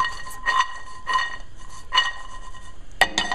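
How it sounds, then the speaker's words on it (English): Walnuts being tossed while they toast in a pan: four or five short, bright rattling clatters of nuts against metal, spaced irregularly, close and fairly quiet, with no talking. "Let's just give them a quick toss here."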